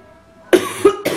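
A person coughs after riding a motorcycle in cold, windy weather: quiet room tone, then three close, sharp coughs in quick succession, the last trailing off.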